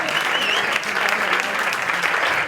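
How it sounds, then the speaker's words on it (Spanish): Audience applause at the premiere of the short film Rosas Rotas in Barcelona: a dense, steady wash of many hands clapping, loud and sustained for the whole moment. "Un gran aplauso para ellas, que han sido el pulso de Rosas Rotas"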